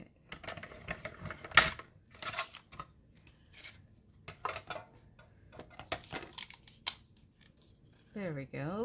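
Scissors snip through pieces of marbled paper with a series of crisp, close cuts, and scattered rustling and handling noises fall between them. A voice speaks briefly near the end.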